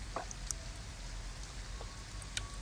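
Rain in Detroit: Become Human pattering on a run-down car at night, a soft continuous hiss with scattered sharper drips and taps landing on the bodywork, fairly quiet and close, with no voices.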